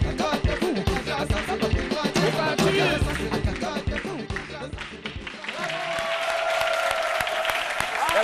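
An audience in a TV studio on a French midday show claps loudly in a dense burst of applause for about five seconds, then gives way to a sustained musical tone.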